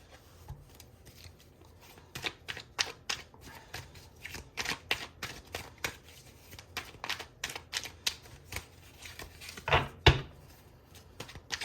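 Tarot cards are shuffled by hand in a long run of quick, crisp riffling bursts, close and fairly quiet, with a sharper flurry near the end and no voices.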